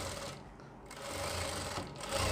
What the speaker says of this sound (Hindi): और यहाँ पे हम सिलाई लगाएंगे।